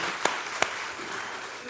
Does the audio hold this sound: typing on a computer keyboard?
no